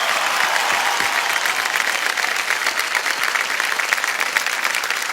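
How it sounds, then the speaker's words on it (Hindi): Studio audience at a television quiz show applauding a contestant as she takes her seat, a loud, sustained wall of clapping with no pause. "तालियां बजती रहे इनके लिए।"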